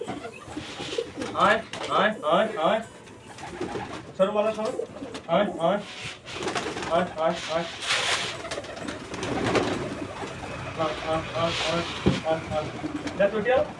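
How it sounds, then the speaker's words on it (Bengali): Domestic pigeons cooing on a house rooftop, soft repeated coos heard close by, mixed with a person calling out and talking over them. "সবকটা পায়রা পুরো ছড়িয়ে ছিটিয়ে পড়েছে ছাদে গেছে"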